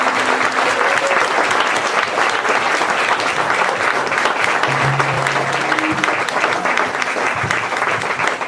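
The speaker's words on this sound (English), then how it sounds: "Let's give them a round of applause." An audience at the Anderson Springs groundbreaking ceremony in Lake County breaks into sustained, dense applause, steady and loud for the whole stretch with a faint murmur of voices underneath.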